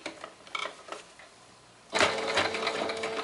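A few soft clicks and handling sounds, then a sewing machine starts stitching fabric for a heart-pattern zip pouch, running close and steady with a fast mechanical whir for over a second.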